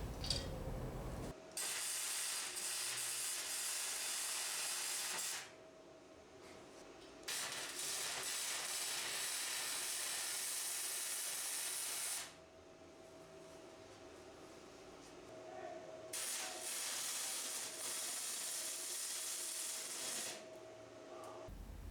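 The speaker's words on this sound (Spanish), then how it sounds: "Ahora voy a soldar las 4 patas al soporte." Welding four iron legs onto a scrap-metal workbench frame, steady loud crackling hiss in long bursts separated by short pauses, close up, no talking.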